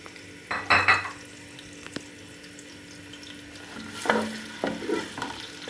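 Onions go into about a cup of ghee for an arvi and baingan curry. A few loud clattering bursts of a spoon against the pot sound over a low background sizzle, with no talking.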